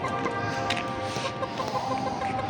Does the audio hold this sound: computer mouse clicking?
no